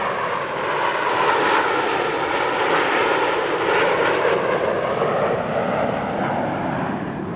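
China's PLA Air Force August 1st aerobatic team flies J-10CY fighter jets at the Dubai Airshow 2023, a loud, steady roar of jet engines that swells and sweeps past for several seconds with no talk.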